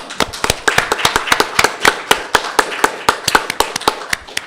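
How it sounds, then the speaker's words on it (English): A modest conference workshop audience applauds, with sharp, distinct hand claps in an uneven, lively rhythm heard close and clear, with no talking over them. "A round of applause for the authors."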